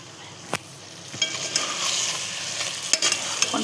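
Chicken cooking in masala for a tandoori-style biryani, frying with a steady sizzle while a spoon scrapes and stirs the pan, including a few sharp clinks, close and fairly loud.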